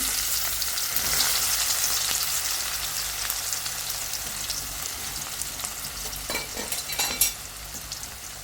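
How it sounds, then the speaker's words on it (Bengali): Onion dropped into hot oil, a bright, dense crackling sizzle that holds steady for several seconds, with a few louder spits and a clatter near the end, close and fairly loud, no speech. "তেলটা বসাই দিছি আর এখানে হলো পেঁয়াজটা দিয়ে দিলাম"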